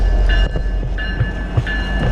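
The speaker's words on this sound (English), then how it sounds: "Oh hey, the train's leaving." Rumbling freight train pulling away from a wooded area, heavy low clatter with periodic squeals and clanks, loud and close with no talk.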